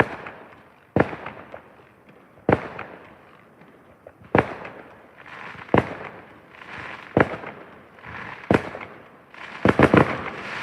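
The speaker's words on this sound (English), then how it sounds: "another fireworks." Fireworks going off in a neighbouring yard beyond a stretch of woods at night, a series of sharp, fairly distant bangs roughly every one to two seconds, ending in a quick cluster of pops, with no talking.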